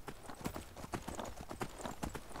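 Horse hooves gallop at a steady clip-clop rhythm across open ground in the video game Skyrim, a rapid string of hoof strikes with soft background ambience and no talk.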